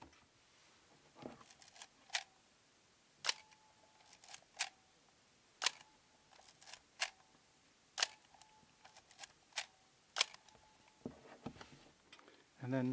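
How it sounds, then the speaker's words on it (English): A Nikkormat EL film camera's shutter fires about a dozen times, each a crisp, quiet mechanical click, several followed by a brief electronic whine, spaced a second or so apart in a hushed room. "And then let's get the sound of the shutter."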